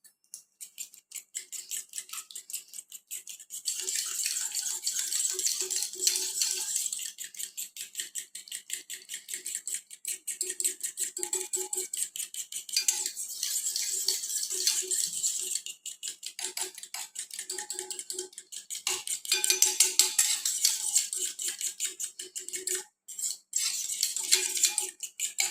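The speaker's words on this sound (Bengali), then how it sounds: "দিয়ে এটাকে আমি ফেটিয়ে নেব কাঁটা চামচের সাথে" Fork whisking turmeric and spices into a mixture for a Bengali hilsa and eggplant steamed dish, a long run of quick, rhythmic metallic clinking and scraping against a bowl, close and steady with brief pauses.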